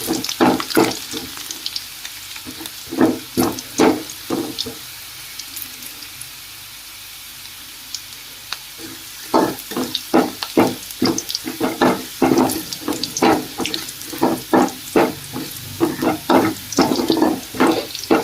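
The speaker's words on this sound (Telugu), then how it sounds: "వెల్లుల్లి వేగుతుంది, బాగా మంచి వాసన వస్తుంది." Garlic frying in hot oil for chilli chicken, a close crackling sizzle broken by rhythmic bursts of stirring or spattering, with a quieter stretch in the middle and no talking.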